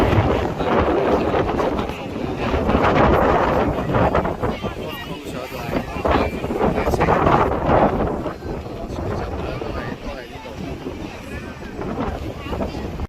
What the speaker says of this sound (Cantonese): 不過係大風啲啦。